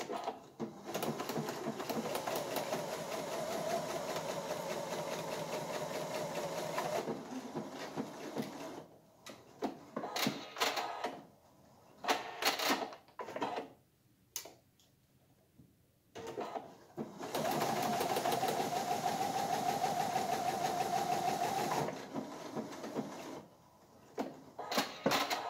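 A sewing machine stitches pinned fabric pieces about 1 cm from the edge, running in long, steady, close-up bursts that stop and start. Brief quiet handling noises fill the pauses between runs.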